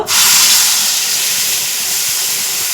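Kharkol leaves drop into hot oil already seasoned with black cumin, setting off an abrupt, loud, close sizzle that keeps hissing steadily with no voices present.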